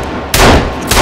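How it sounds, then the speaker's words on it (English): Two sharp, loud gunshots ring out in Sons of the Forest, spaced about half a second apart, each a sudden blast that decays quickly. "You shooting me in the process."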